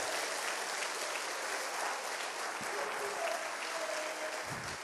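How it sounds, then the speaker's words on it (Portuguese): Church congregation applauding during a sermon, a continuous dense roar of clapping held at a steady level throughout, with faint voices mixed in underneath. "Levanta sua mão e aplauda o Senhor agora"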